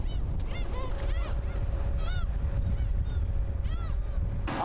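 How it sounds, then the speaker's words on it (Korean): Seagulls following a tour boat at sea near Dangjin, South Korea, call repeatedly in overlapping squawks above a steady rumble of engine and wind. "갈매기들이 유람선을 따라오며 춤을 춘다."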